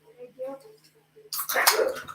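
Faint murmuring comes first, then a sharp, loud sneeze bursts out and trails off with a short breathy tail.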